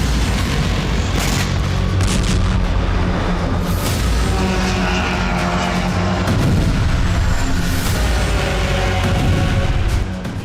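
Missile strikes hit Kyiv during the Russia-Ukraine war. Deep booms and blasts come one after another in a dense, loud, rumbling series, with no speech over them.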